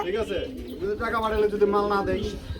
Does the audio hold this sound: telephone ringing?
no